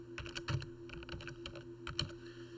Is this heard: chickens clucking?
no